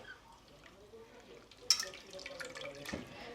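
Faint water dripping and a small splash or two against quiet background noise, with a brighter splatter partway through.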